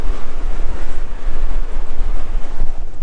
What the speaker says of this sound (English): Hopefully you guys heard that, it's a bit windy.